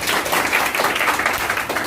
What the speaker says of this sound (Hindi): कोमल के लिए ताली बजाओ।